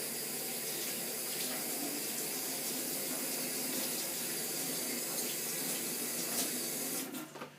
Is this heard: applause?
no